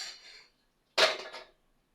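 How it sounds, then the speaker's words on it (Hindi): Steel cooking pots and utensils gathered up in a home kitchen while making kadhi, giving two short bursts of metallic clatter and clinking, close and fairly loud, with a brief silent gap between them. "यहाँ से सारे बर्तन वगैरह वो समेट लेते हैं"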